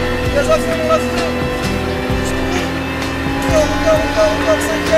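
A Lamborghini LP560 runs at full throttle on a racing circuit, its engine holding a loud, steady, high-revving drone throughout.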